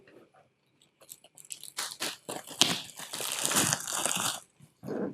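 Packaging for a pair of Shimano RC3 road cycling shoes with the BOA fit system is handled and torn open, giving close, irregular bursts of crinkling and crunching plastic and paper, with brief quiet gaps between them.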